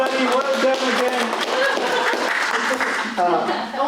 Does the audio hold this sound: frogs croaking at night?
no